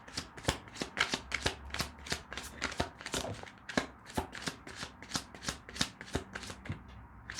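A deck of tarot cards is shuffled by hand in quick, repeated riffles and slaps, close and fairly quiet, with no voices over it.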